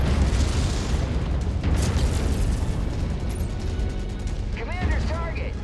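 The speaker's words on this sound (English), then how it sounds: "That autocannon's gonna do me a number here." In the MechWarrior 5: Mercenaries PC game, autocannon fire and explosions form a heavy, continuous roar of booms and rumbling blasts, loud throughout, with a brief voice near the end.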